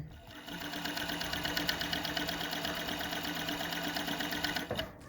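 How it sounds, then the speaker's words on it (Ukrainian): A flatlock (coverstitch) sewing machine runs steadily for about four seconds, stitching fabric with a fast, even mechanical whir and rhythmic needle ticking, close and loud, then stops abruptly near the end. "Вкладаємо тканинку і шиємо."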